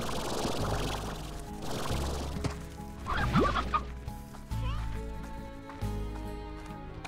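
Elder rooster in the Slime Rancher video game clucking in short bursts among game music and effects, with a player talking over much of it.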